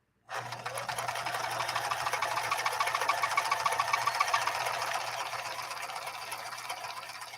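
A Japanese-made Kenmore sewing machine starts abruptly and stitches steadily, a close, even mechanical whir running continuously for about seven seconds.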